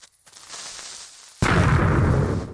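A sudden loud, broadband blast cuts in after a quiet stretch and rumbles on to the end, like a video game creeper exploding up close.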